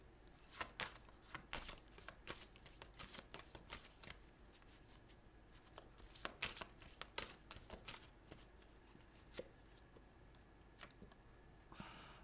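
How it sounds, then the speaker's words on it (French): Tarot cards are shuffled and drawn by hand, a close, quiet run of crisp riffling flicks and slaps in uneven bursts, with soft handling in between. "Je vais quand même essayer de tirer une dernière carte."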